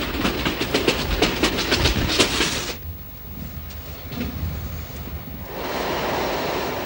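Moving train, loud rhythmic clickety-clack of wheels over rail joints with a rushing roar, easing to a softer rumble midway before swelling again.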